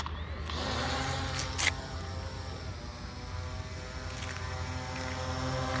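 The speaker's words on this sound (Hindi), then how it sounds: "गाइस यहाँ पे हमारा जो ड्रोन है टेक ऑफ कर चुका है" An F198 camera drone lifts off and hovers close by, giving a steady, loud propeller whine with a harmonic buzz that runs unbroken from start to finish, without any talking.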